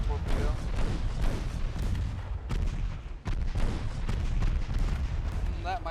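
Torpedo strikes and gunfire crash against a ship in the naval battle game Ultimate Admiral Dreadnoughts, a dense run of loud booming blasts and rumbling explosions that continues almost without pause.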